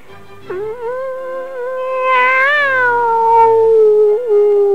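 A person imitates a cat meowing in a long, drawn-out, wavering meow with a rising and falling pitch, sung out loudly and alone as part of a children's story about animal musicians.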